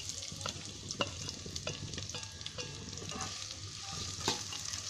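Two large chopped onions fry in oil over high heat, giving a close, steady sizzle broken by frequent spatula scrapes and clicks while they are stirred. No voices are heard.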